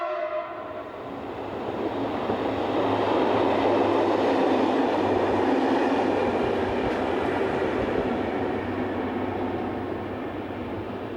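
SNCB electric locomotives 1337 and 1303 pass by in a steady rushing roar of wheels and rails that swells to a peak and then eases slightly, with no speech.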